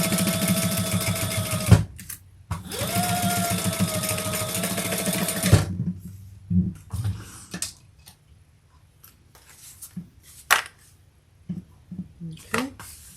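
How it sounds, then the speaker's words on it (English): A sewing machine stitches along each side of a fabric crossbody bag in two long, steady runs, then stops, leaving scattered handling clicks and small rustles. "now I am going to stitch along each side just so they don't move"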